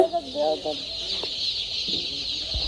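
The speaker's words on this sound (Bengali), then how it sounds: "আর এই বাচ্চাগুলা কিন্তু একদিনের বাচ্চা গত রাত্রে মানে ফুটে বের হয়েছে" A dense, continuous chorus of day-old chicks, hatched the previous night, cheeping on a poultry farm fills the clip, with a brief voice at the start.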